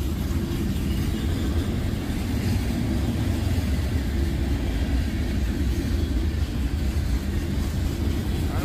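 Freight train of tank cars rolling past, giving a continuous heavy rumble and clatter that stays close and steady from start to finish, with no voices.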